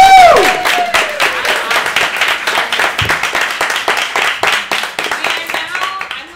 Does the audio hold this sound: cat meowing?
no